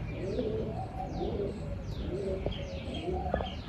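Pigeons give repeated soft coos and a few chirps over a constant background hum, moderately close, with no talking.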